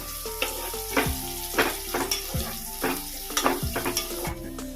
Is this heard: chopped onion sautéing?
yes